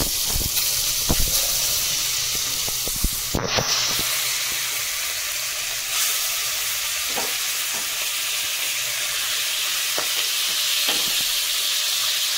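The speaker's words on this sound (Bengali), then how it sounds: "তো লবণ হলুদ মাখানো হয়ে গেছে, তো এবার আমি মাছ ভেজে নেব।" Salt-and-turmeric-coated pomfret fish fry in a pan with a steady, close sizzle and hiss, broken by a few sharp clatters as pieces are added and moved.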